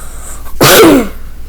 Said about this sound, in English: I'm having a little cough.